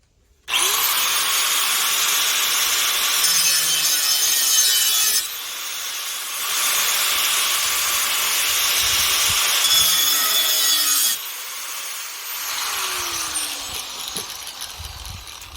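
A cutting wheel slices slots into the tubing of a homemade glasspack muffler, a loud, close, steady high-pitched grind in long continuous passes with brief pauses between them; no one speaks.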